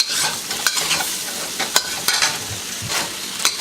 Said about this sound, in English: Bubbling really nicely.